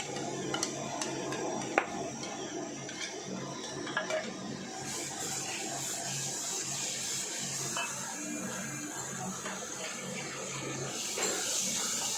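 Water poured from a jug into a cooking pot of besan and yogurt batter for Punjabi kadhi pakora, a steady close splashing trickle lasting several seconds with faint clinks of dishes, no talking.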